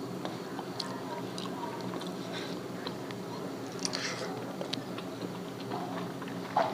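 Someone eating Bengali rui fish kalia, a rohu curry in oily spiced gravy: soft close-up chewing and small wet mouth clicks and smacks at irregular intervals, faint against quiet room tone, with a brief louder click at the end.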